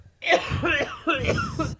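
A few harsh, raspy coughs close by, in two bursts with a brief pause between them, no talking.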